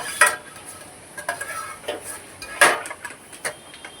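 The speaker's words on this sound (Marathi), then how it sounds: "असं मिक्स करून घ्यायचं आहेत आपल्याला मक्याचे दाणे आणि बटाटा" Spoon scraping and clinking through a potato and sweetcorn mixture for bread pakoda, a run of short irregular stirring knocks against the bowl, fairly close, with no talk.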